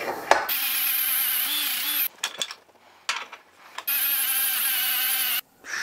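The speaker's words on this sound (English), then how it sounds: "I also want to hit the rebar sides with wire wheel" A wire wheel grinding the sides of a rusty rebar hammer head held in a vise, a loud high whirring scrub in two long bursts with short pauses and spin-downs between, close by, no talk.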